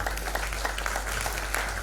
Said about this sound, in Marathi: एका जोरदार टाळ्या होऊन जाऊया